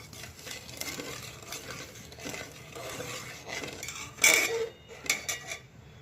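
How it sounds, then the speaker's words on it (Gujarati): Sugar syrup for Rajasthani malai ghevar is stirred continuously in a pan, with a steady close scraping and swishing of a spoon and a few sharper metallic clinks against the pan near the end. "હવે એને સતત આપણે હલાવતા રહીશું।"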